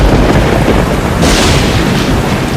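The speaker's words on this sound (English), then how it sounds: "Thunder and lightning, accompanied by heavy rain, sometimes turning to snow, dogged the English soldiers every step of the way." Thunder rumbles over heavy rain during a storm, a deep continuous roll that swells into a brighter crackling burst partway through, loud and close with no voices.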